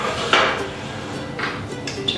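A metal pan is slid onto a stovetop before making Thai roti pancakes, one sharp clank followed by softer scraping and light knocks, close and moderately loud, with no speech.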